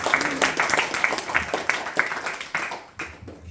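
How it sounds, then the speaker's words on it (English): A group gathered for a Bhagavad Gita study session gives a short round of applause, fairly close and moderately loud, tapering off after a few seconds. "Please give a round of applause."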